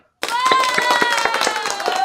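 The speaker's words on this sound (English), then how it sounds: "So everybody, give her a round of applause." Applause from a small audience at an author's talk show taping, starting abruptly after a brief silence as a few close hands clap in a quick, uneven rhythm, with voices and a sustained tone running underneath.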